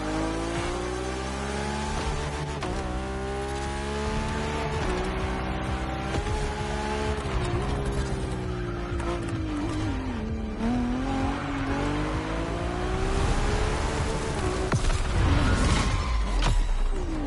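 A Ferrari F80 supercar is driven in the racing game The Crew Motorfest, its engine revving up and down through gear changes with occasional tire squeal, loud and continuous throughout with a harsher burst near the end.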